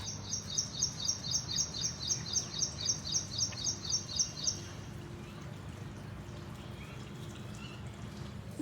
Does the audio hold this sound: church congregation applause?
no